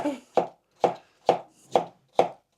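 Five evenly spaced knife chops through vegetables on a cutting board, crisp, close thuds about half a second apart with silence between.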